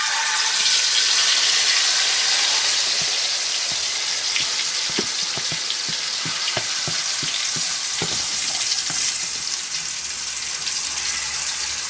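Masala-marinated prawns sizzle loudly in hot oil in a pan for prawn biryani, a steady frying hiss with repeated scraping stirs and clinks in the middle, close and without talk.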